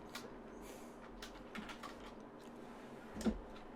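Faint keystrokes on a computer keyboard entering a number, a few soft scattered taps with a slightly louder click near the end, quiet and close with no speech.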